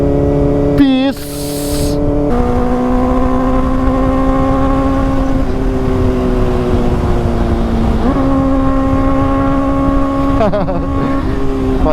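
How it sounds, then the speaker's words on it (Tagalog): A loaded Honda Click 125 scooter passes on the road with a loud, steady engine drone that shifts pitch as it accelerates, running continuously with wind noise over it. "Panis, Honda Click lang malakas."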